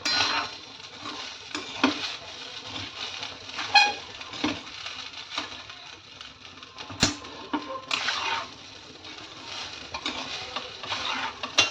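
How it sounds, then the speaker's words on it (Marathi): Cooked rice being stirred together with chili powder and salt: intermittent scraping and clinks of a spoon against a metal pot, irregular strokes with a faint sizzle underneath. "तिखट मीठ छान असं मिक्स करायचं आहे"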